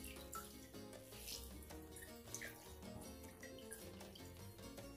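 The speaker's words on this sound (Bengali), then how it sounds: "যতটুকু পারা যাচ্ছে একটু পানিটা ফেলে দেব।" Water being squeezed from fresh chhana, cottage cheese wrapped in cloth, a soft trickling and dripping that flows steadily at low volume with no voices.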